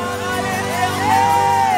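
Congregation at a church weekend service shouting and whooping for joy together, a sustained crowd roar with a rising cry on top, loud and close.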